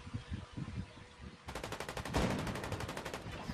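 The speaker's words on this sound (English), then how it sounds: "What are they shooting? Everything, trying to find me." Gunfire in the video game Fortnite: after some low muffled game noise, rapid automatic bursts break out, a fast steady rattle of shots that grows louder and continues to the end.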